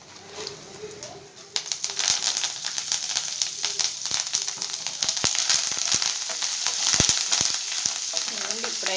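Dried red chillies fry in hot oil for a banana fry, a loud, close, crackling sizzle that swells after a quiet start and keeps spitting with sharp pops, no voice over it.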